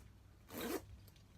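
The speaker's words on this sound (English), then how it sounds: "This one zips up at the front" One quick zipper pull on the front of a buoyancy aid, short and close, in an otherwise quiet setting.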